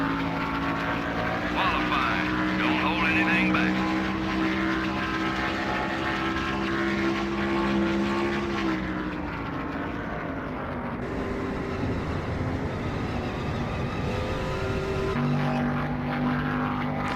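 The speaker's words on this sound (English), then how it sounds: "I'm going to let you hear just the raw sound of the engines" Race car engines roar in the NASCAR Thunder 2000 video game, a continuous harmonic drone that holds steady, shifts pitch around the middle and then drops to a lower tone.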